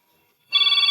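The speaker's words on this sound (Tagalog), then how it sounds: "agriring ti cellphone ko." A cellphone suddenly starts ringing, loud and close, with a bright trilling electronic tone pulsing rapidly after a moment of near silence.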